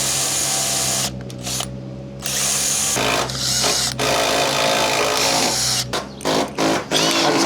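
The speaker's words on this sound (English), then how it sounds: "I just got this 25 mil spade bit" A power drill driving a 25 mm spade bit into timber on a building site, a steady close whirring grind that stops and restarts in short bursts near the end.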